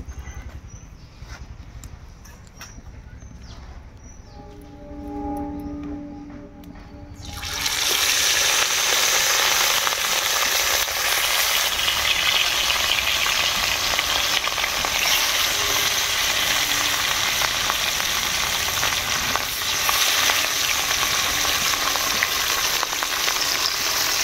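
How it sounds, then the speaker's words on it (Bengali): Rohu fish pieces frying in mustard oil in a pan give a loud, steady sizzle that starts abruptly after some quieter kitchen noise and continues without a break. "মাছগুলা ভাজি নিব।"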